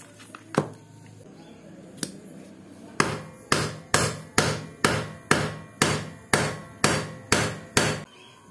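A hammer drives a bearing into a motor scooter's CVT pulley: a few scattered blows, then a regular series of about ten sharp metallic strikes, close and loud.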